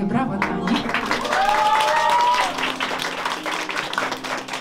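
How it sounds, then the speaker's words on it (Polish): Audience applause for young performers at a carol concert in a cellar venue, steady clapping with a sustained tone and some voices over it, moderately loud throughout. "dlatego gromkie, gromkie brawa dla nich"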